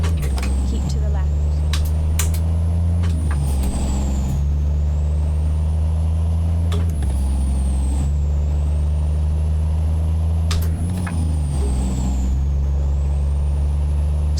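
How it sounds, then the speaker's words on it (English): In American Truck Simulator, a heavy truck's deep engine drones loud and steady, with the revs climbing and falling in repeated sweeps and a few sharp air-brake hisses. "Sounds like there's a period of acceleration or increased RPM before the needle starts to move."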